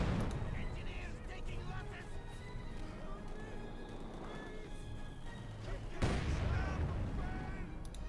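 Machine gun and artillery fire in Company of Heroes 2, an MG-32 among the weapons, with dense rumbling battle noise, distant booms and a heavy impact midway, under a steady narrating voice.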